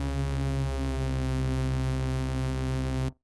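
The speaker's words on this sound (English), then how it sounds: "I'm gonna add another minimal audio effect, which is called Rift, which is a great sounding distortion." A sustained Serum synth tone through Rift distortion holds a rich, buzzing harmonic drone whose gritty texture shifts slowly, then cuts off abruptly near the end.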